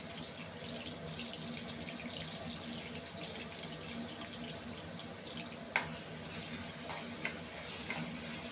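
Paste and chopped onion in hot oil give a steady, fairly quiet hissing sizzle throughout, with a few sharp clinks of a spoon against the pan near the end and no talking.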